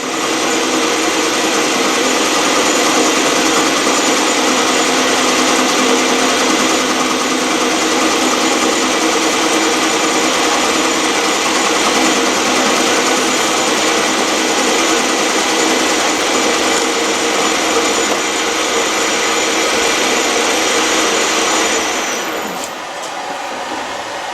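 Metal lathe running at 580 rpm with a cutting tool feeding at 1 mm, a continuous steady mechanical hum and whine with a faint high ringing tone, close and constant before easing near the end.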